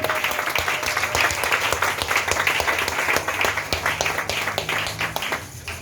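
A congregation claps and acclaims during a church teaching session at a 2021 gathering, steady loud applause filling the space with a few voices mixed in throughout.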